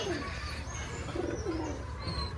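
Soft, fairly distant coos from Giribaj pigeons kept on a Rajshahi farm, a few low rolling calls over a steady background hum.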